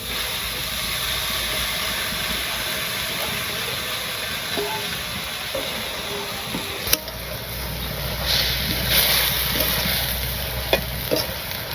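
A pan of drumstick (moringa) leaf greens with water and salt simmers at a boil, giving a steady hiss and bubbling that runs throughout the clip. A few light clinks and stirring sounds come in toward the end.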